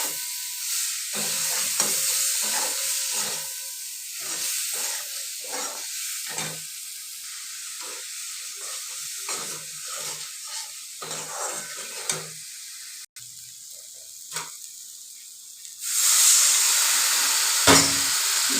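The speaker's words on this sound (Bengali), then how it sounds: "দেখো মশলাটা কষিয়ে নিচ্ছি।" Ground spice paste with salt, turmeric, chili and cumin powders is stirred and fried with potatoes in a pan, sizzling steadily under repeated scraping strokes, with a louder hiss of steam near the end.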